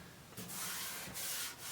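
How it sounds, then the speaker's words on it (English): A sanding block rubs surface rust on an antique wood-fired cook stove in three close, raspy strokes, each a broad scraping swish, quiet and alone. "Run a sanding block on that"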